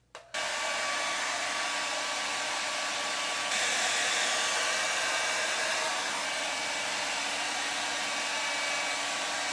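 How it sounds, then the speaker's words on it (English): A hair dryer switches on after a brief moment and blows continuously with a steady, loud whooshing roar for the rest of the clip. "Now I'm just gonna take my blow dryer and blow dry this out"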